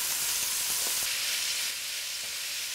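Steady, loud sizzling of poultry searing in hot oil in a heavy cast-iron pot, a continuous crackling hiss with small pops throughout.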